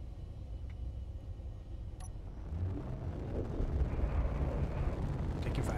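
Gunfire and explosions from a space battle in Space Engineers, a continuous low rumbling barrage that swells louder over the second half, with a couple of brief sharp cracks early on.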